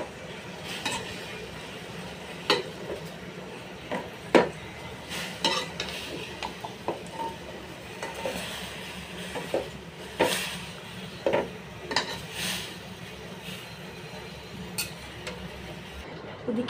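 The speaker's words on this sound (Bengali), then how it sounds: "এখন আমি এখানে এই যে রসুনগুলো দিয়ে দিচ্ছি। একটু নেড়ে ছেড়ে দেবো।" Garlic stirred and frying in a pan while making taro-leaf bharta: repeated scraping stir strokes and utensil clinks over a soft sizzle, fairly close and steady, with no talking.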